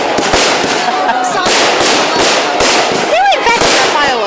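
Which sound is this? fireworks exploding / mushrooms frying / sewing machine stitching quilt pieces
fireworks exploding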